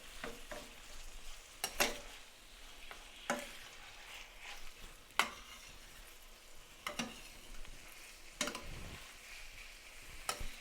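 Turkey meat sautés quietly in a pan, a soft steady sizzle broken by periodic scrapes and taps of a utensil stirring and breaking up clumps, with no talking.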